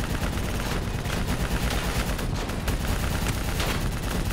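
Dense, continuous automatic gunfire from a Call of Duty Black Ops 3 combat mission, loud overlapping bursts and rattling shots aimed at an enemy VTOL and APC, with no voices.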